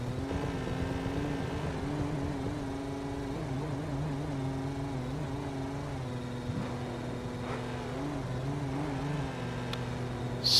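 Race car engines hum steadily in a NASVAN racing video game grand final, a sustained layered drone of several motors idling and droning at close range, with a brief louder burst at the very end.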